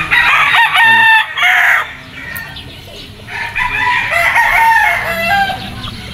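Gamefowl roosters crow loudly and close at a game farm on Mt. Banahaw, two long cock-a-doodle-doo calls with a pause between, with faint clucking behind.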